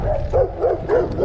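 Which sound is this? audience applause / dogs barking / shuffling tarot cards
dogs barking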